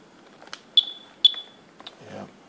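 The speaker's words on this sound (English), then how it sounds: "You can see it beeping." A radiation detector held over powdered ginger emits sharp high-pitched beeps, two prominent and a few fainter chirps, with a brief murmur near the end.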